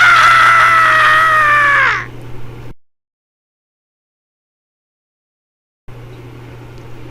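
A terrified, high-pitched scream rises loud and piercing for about two seconds, then breaks off. Near-silence follows, and a faint steady hum like a room fan returns at the end.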